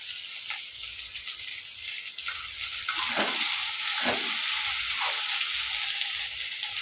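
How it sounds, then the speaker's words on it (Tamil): Okra and onion sautéing in a pan with salt, a steady bright sizzle with occasional soft stirring scrapes, close and fairly quiet, no voices. "இதை இப்போ நம்ம நல்லா வதக்கி எடுத்துக்கலாம்"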